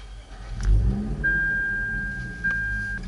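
Car pulling away at low speed, engine rumbling and rising briefly nearby, with a thin steady whine running beneath, no voices.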